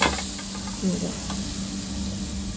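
A wok on the stove with mustard greens being cooked, a steady close sizzle with scraping stir strokes and light knocks of the utensil against the pan, no voice over it.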